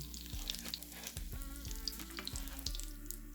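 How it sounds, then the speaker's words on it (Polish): Steady sizzling of savory pizza-flavored pancakes frying in a pan, with a low hum and occasional clicks and clatter nearby. "I tak kolejno smażymy wszystkie placki."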